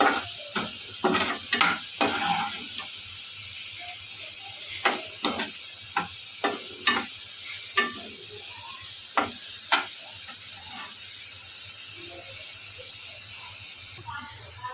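Garlic roasts in a pan for a soya chaap dish, giving a steady low sizzle under a rhythmic run of spatula scrapes and taps that slow and thin out over the second half.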